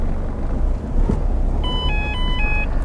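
Ford Fiesta Zetec S door-open warning chime, a few short electronic beeps in the cabin with low background rumble.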